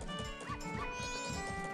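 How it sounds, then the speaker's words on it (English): Dog barking in a Zelda video game, a few short yips and barks repeating in quick rhythm over a busy layer of game music and effects. "Is the dog afraid of me when I'm a goron?"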